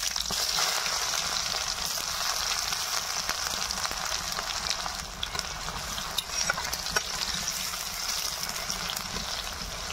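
Chopped onions fry in hot oil with whole cumin and dried red chillies, giving a dense, steady crackling sizzle with small popping spatters and faint stirring, continuous and close throughout.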